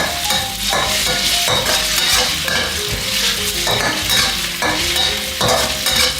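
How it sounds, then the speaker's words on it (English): Shallots and firm tofu fry in a pan for a Thai dish, a loud continuous sizzle broken by repeated rhythmic stirring scrapes, with no talking. "And then you just stir it, keep stirring."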